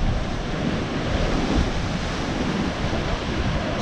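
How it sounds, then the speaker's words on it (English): Ocean wave surging into Thor's Well, a rocky sea hole on the coast at Cape Perpetua, with continuous loud roaring surf and wind rumble swelling steadily throughout, no voices. "Here comes another big wave."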